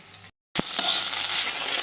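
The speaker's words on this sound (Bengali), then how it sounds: "ঢেঁড়স এখানে ভাজা ভাজা হচ্ছে, ভাজা হয়ে গেছে" Okra fries in a hot pan with a loud, dense sizzle and hiss that drops out briefly near the start, then returns strongly with a small clink, close by and without speech.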